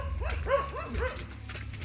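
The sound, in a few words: dog barking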